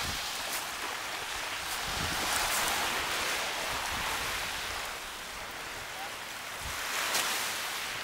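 Gentle sea waves at a resort beach wash and hiss steadily with soft rising and falling surges, mixed with some wind rumble on the microphone.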